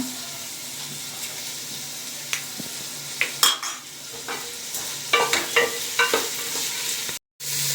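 Onions fry with salt in a pan for mushroom green pulao, a continuous sizzle punctuated by stirring scrapes and spoon clinks against the pan, close by, then a brief cutoff near the end.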